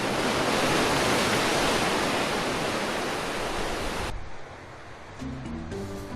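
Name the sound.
rough ocean waves on Galapagos island shore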